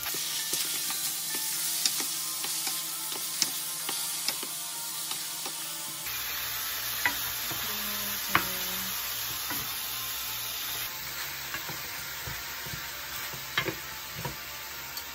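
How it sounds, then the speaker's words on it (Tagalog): Pork fries in a pan for Filipino caldereta, hissing in a close, continuous sizzle with occasional clinks and scrapes of a utensil, and no talking. "Time na para ilagay yung pork."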